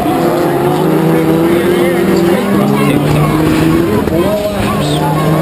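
Rallycross race cars compete at New Hampshire Motor Speedway in the 2012 Global RallyCross, heard from onboard as a loud, continuous engine roar whose pitch climbs and falls through gear changes and throttle shifts.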